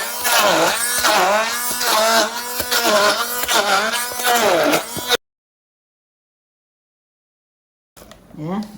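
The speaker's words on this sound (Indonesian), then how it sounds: "Kita blender aja." An electric blender grinds a spice paste with oil for soto kudus, a loud, buzzing motor whine with wavering pitch, then abrupt silence before it briefly starts again.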